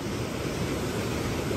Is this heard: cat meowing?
no